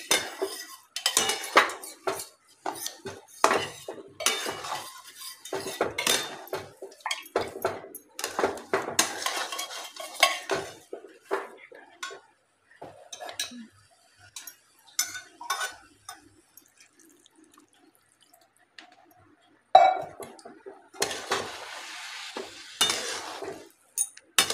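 A spoon scrapes and stirs semolina sheera with milk in a metal pan, in close, irregular bursts of clinking and scraping, with a quieter pause partway through before the stirring resumes.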